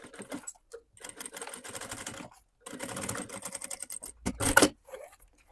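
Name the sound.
sewing machine topstitching a synthetic-leather bag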